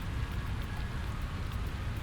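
Steady rain falling in the Satisfactory factory-building game, a dense, constant hiss of drops spread evenly with a low rumbling patter underneath, continuous and close with no voices.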